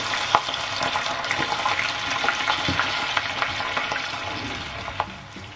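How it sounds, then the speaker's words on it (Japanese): Breaded shrimp deep-frying in hot oil, coated in crushed instant chicken ramen, producing a dense, continuous crackling sizzle with scattered sharp pops, close and moderately loud throughout. "油で揚げるときはかなり大きな音なので"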